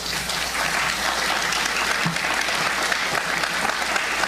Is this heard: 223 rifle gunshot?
no